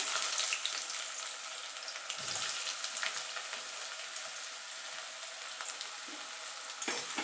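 Medium-sized chopped onions frying in a pan for a spicy ghugni, a steady crackling sizzle throughout with occasional stirring scrapes, close and continuous, no voices.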